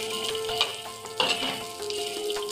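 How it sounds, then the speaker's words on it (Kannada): Sweet corn fries in hot oil in a village-style kitchen, giving a steady dense sizzle with a few sharper crackles and stirring scrapes, close and unbroken by any voice. "ಅದನ್ನು ಎಣ್ಣೆಯಲ್ಲಿ ತುಂಬ ಚೆನ್ನಾಗಿ ಫ್ರೈ ಮಾಡುವ"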